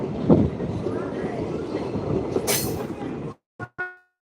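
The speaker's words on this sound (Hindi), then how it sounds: "मालगाड़ी लागत है" Freight train rolling past on the railway near a station in Bihar, a loud continuous rumble of wagons with a brief high squeal, then cutting off abruptly into short bursts near the end.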